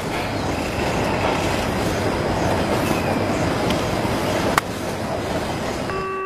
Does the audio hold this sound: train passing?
yes